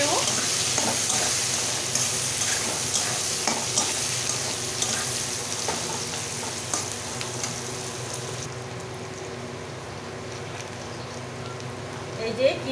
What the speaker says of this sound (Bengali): পেঁয়াজ কুচি দিয়ে দেব। পেঁয়াজটা একটু ভেজে নেব।